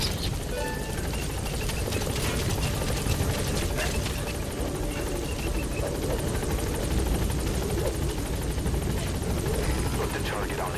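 Helicopter in the video game Metal Gear Solid V: The Phantom Pain, a loud, steady rotor drone and engine whine held continuously and close throughout.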